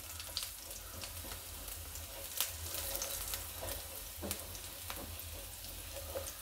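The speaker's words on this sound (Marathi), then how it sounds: "आता आपल्याला यात लसूण घालून घेऊया, बारीक चिरलेलं" Finely chopped garlic frying in a pan for a homestyle dahi tadka, a steady close sizzle with occasional clinks and scrapes of stirring.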